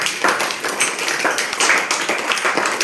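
A group of children at an anganwadi clapping their hands together, a loud, dense, uneven patter of many overlapping claps continuing throughout.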